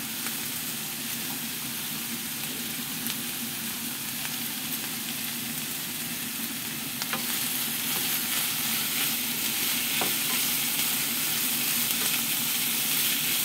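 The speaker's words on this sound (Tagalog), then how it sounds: "At ating ginigisa ng aking ulam" Ground meat with carrots and potatoes sautéing in a pan, a loud, steady sizzle and hiss that runs unbroken throughout, with a few faint stirring clicks and no voice.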